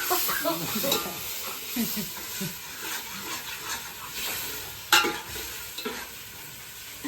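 Ingredients for dal dhokli, including tomatoes, fry in oil with a continuous sizzling hiss. Occasional scraping strokes of a stirring spoon rise above the sizzle, and a sharper clatter comes near the end.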